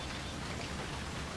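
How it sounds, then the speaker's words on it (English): Hail and rain pour down during a storm in the video game GMod, a dense, steady hiss of drops hitting surfaces with no pauses, close and even throughout. "More hail."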